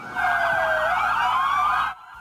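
Emergency vehicle sirens at a memorial for the hijacked planes, wailing loud and close in rising and falling sweeps, then cutting off abruptly.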